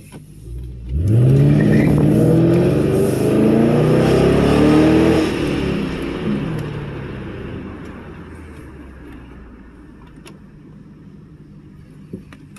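A Lincoln Town Car engine revs up sharply after a throttle body spacer change, its pitch rising smoothly and holding loud for several seconds before settling back to a steady idle.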